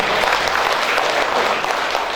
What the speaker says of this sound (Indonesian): Tepuk tangan untuk beliau-beliau ini.